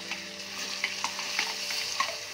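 Mashed boiled potato is stirred into hot oil with fried spices in a pan, giving a continuous sizzle broken by repeated scraping stir strokes, close and clear with no talk.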